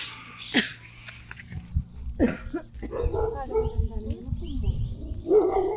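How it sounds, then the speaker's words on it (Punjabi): A dog barking outdoors in rural Himachal Pradesh; two sharp barks ring out early, followed by people talking nearby with some coughing and birds in the background. "ਕੋਈ ਕੁੱਤਾ ਨਿਕਲਿਆ ਬਾਹਰ"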